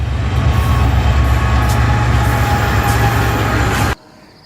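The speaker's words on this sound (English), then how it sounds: "Why is this train not slowing down?" A moving train roars in a steady, loud, dense rumble with strong low-end rattle, heard close up for about four seconds before cutting off abruptly.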